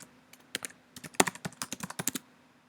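Rapid, uneven keystrokes on a computer keyboard while entering an email address, close and clear, a burst of about two seconds of clicks with no talking.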